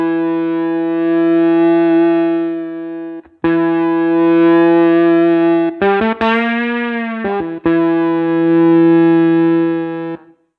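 Sustained, heavily distorted electronic tones from a Seaboard RISE playing a Kontakt jazz guitar, with slide controlling distortion drive, ring out in separate phrases, their gritty buzz shifting in intensity and pitch between notes.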